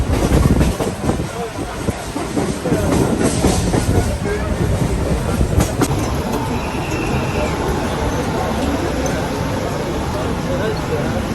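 A crowded Mumbai local train rumbles steadily close by, a broadband clatter of wagons and wheels running for the whole stretch, with voices talking over it.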